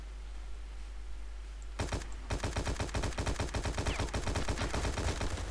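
Rapid automatic gunfire in the shooter video game War Inc Battlezone, starting abruptly after a quiet stretch and continuing as a loud, steady burst of closely spaced shots to the end.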